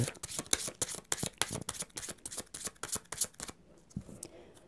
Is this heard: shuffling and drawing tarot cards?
yes